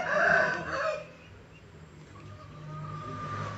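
A hen crowing like a rooster, loud and close for about a second, then trailing off into a quieter drawn-out note under faint farmyard background.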